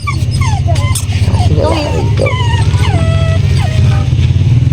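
A dog yips and whimpers in short high cries over a loud steady engine hum, with people talking excitedly nearby.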